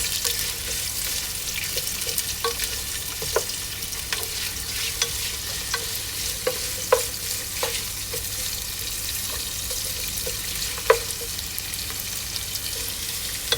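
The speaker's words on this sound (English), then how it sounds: "Let's fry the onions." Onions fry in a pot for home-style one-pot chicken dum biryani, giving a steady, moderate sizzle with scattered stirring clinks and scrapes throughout.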